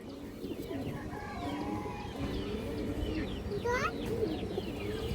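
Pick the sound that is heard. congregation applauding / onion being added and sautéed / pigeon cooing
pigeon cooing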